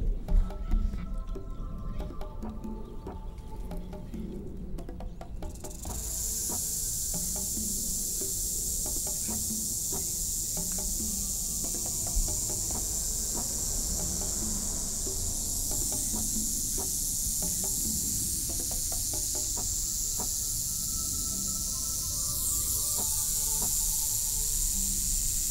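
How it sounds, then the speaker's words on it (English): A rattlesnake's rattle buzzing in a continuous high, dry hiss that starts abruptly a few seconds in and carries on steadily to the end, close and loud over low handling noise. "Look at that rattle go."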